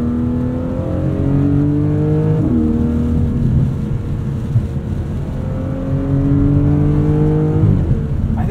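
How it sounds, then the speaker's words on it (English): A 2024 Porsche 718 Cayman GTS 4.0 with PDK gearbox pulls through the gears from inside the cabin, its smooth flat-six tone rising steadily in pitch, dropping at each shift, then climbing again, loud and continuous. "It's just smooth, clean engine tone."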